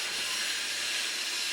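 A Cripple Creek Railroad steam locomotive lets off a loud, steady hiss of steam, close and continuous without a break.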